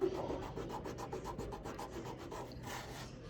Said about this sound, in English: I would recommend rubbing it with your hand like this.